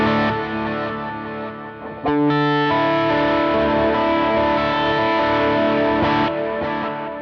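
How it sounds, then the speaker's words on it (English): Sustained electric guitar chords with a distorted tone and repeating delay echoes, no reverb, played alone with a fresh strum partway through. "let's listen to the delay without any reverb"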